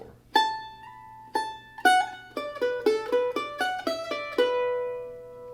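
Mandolin playing a fiddle tune, a run of bright plucked notes in a pentatonic phrase with a slide, close and clear, ringing out at the end with no talking.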